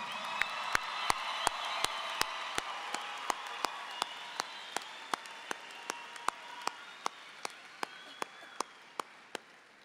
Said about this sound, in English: give a round of applause for our graduating class